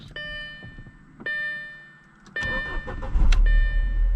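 A 2008 Audi A4 S-Line 2.0T engine, slightly pre-warmed, turns over and settles into a quiet idle, with a few soft clicks and a low rumble rising toward the end.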